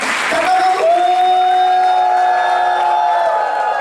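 A church congregation claps loudly as a dense crowd patter, blended with sustained tonal notes that carry through the clip.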